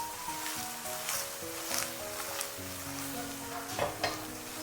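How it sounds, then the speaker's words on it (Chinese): Tofu coated in beaten egg pan-frying over medium heat, a dense continuous sizzle with occasional louder swells as the pan is shaken. "这个时候我们开中火慢煎，多晃动锅"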